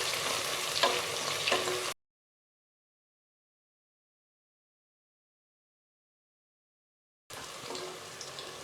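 Shallots and a couple of dried red chilies frying in oil for a village-style ground-masala mutton kuzhambu, a steady close sizzle with stirring scrapes, broken by a long stretch of silence before the frying resumes.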